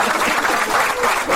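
An audience applauds for Obi Emelonye at a Nollywood Week event in Paris, with a dense, even patter of clapping heard briefly.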